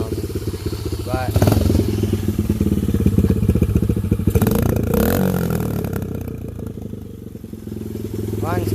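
A dirt bike engine, freshly carb-cleaned, runs loud and close, chugging unevenly at a rough idle with brief throttle rises, while someone talks over it.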